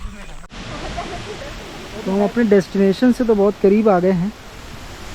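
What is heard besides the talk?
waterfall at Mainpat hill station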